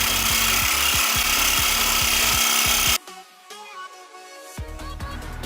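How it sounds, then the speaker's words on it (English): A hacksaw cutting through a seized car sway bar end link, loud rhythmic back-and-forth rasping strokes for about three seconds, then quieter metallic clinks and handling. "So I basically have to use a hacksaw to cut this out."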